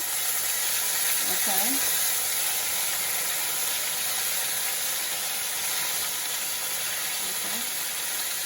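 Battered cauliflower wings fry in hot oil on a stove, a loud steady hiss and sizzle that fills the whole stretch, with a brief spoken word over it.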